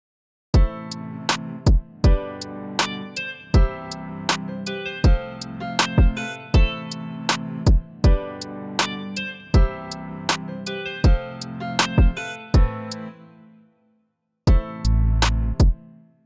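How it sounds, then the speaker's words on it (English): Hip hop and R&B type beat built in FL Studio, layering a soft pad, punchy drums and chords; steady rhythmic hits repeat over sustained harmony, with a short gap near the end before a final loud burst. "So the combination of my pad, my drums, and my chords sound like this."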